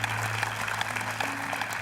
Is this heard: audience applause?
yes